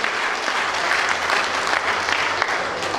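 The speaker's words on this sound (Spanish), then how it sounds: "¿Y ustedes creen que Dios se merece un aplauso así?" Church congregation applauding during a Father's Day sermon, sustained even clapping filling the room, fairly loud and continuous with no speech over it.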